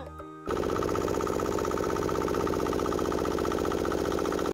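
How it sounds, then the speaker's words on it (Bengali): A water pump driven by an engine runs steadily outdoors in rural Jessore, Bangladesh, a continuous loud mid-pitched chugging drone that starts abruptly after a short quieter moment and holds constant throughout. "ইঞ্জিন চালিত মেশিনে পানি তোলা হচ্ছে।"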